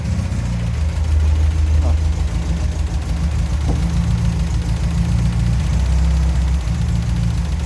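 An Opel C20NE engine idles close by with a loud low drone that runs roughly, smoothing out and then faltering again in waves as it misfires.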